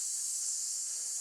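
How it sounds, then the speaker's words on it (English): A sizzling sound effect plays during a tabletop Advanced Dungeons & Dragons session, a steady, thin, high-pitched hiss that holds constant throughout with no voices. "Then you hear the sizzling again."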